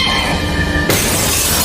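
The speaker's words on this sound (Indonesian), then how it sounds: "memecahkan kaca gedung tersebut" A building's glass window shattering: a loud, sudden burst of breaking glass cuts in partway through and continues as a bright, sustained crash over a dense background.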